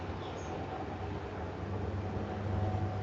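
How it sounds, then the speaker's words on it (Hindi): Traffic on a Delhi road, a continuous low rumble of engines and passing vehicles with a faint distant horn, steady and moderately loud, with no one speaking. "कितना शोर आ रहा है ट्रैफिक का अभी"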